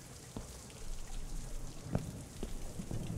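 Steady rain patter in the horror game The Joy of Creation: Reborn, a soft continuous hiss with a few scattered louder drops, moderately quiet and heard alone without talk.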